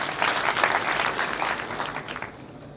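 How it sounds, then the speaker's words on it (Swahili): An audience applauds at the launch of a wheat milling plant, a burst of clapping that is fairly loud at first and then thins and fades toward the end. "Tuwapigie makofi."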